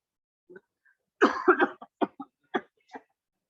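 A short cluster of close, harsh coughs, several quick bursts in a row, following a brief soft sound beforehand.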